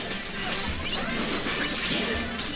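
Back air attack hits from Ness in a Super Smash Bros match against Donkey Kong, crashing impacts with swooshes in a dense, loud game mix that never quiets.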